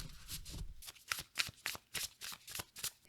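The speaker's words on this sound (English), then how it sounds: "I'm going to shuffle the Curious Creatures Tarot a couple times." Curious Creatures Tarot cards are shuffled by hand, a soft close riffle of quick repeated flicking bursts in an even rhythm.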